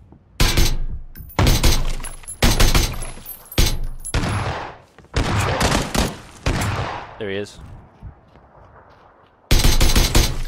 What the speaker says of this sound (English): The guy's trying to get me with a shotgun here.